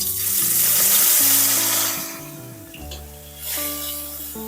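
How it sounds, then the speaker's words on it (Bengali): Amudi fish rubbed with salt and turmeric hits hot mustard oil in a pan, giving a loud, hissing sizzle that fades and then swells again under background music. "এখন আমি এর মধ্যে লবণ হলুদ মাখিয়ে রাখা মাছগুলো দিয়ে দেব।"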